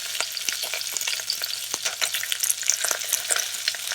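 Chopped garlic and red chili pieces frying in oil for a Sri Lankan dal curry, a steady close crackling sizzle with scattered sharp pops and stirring clatter throughout, no voices.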